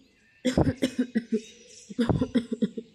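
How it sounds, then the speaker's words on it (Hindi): An elderly cartoon mother-in-law coughs in two harsh bursts, each a rapid run of about six or seven hacking coughs, close and loud with a short pause between bursts. "बहुत खांसी उठी है।"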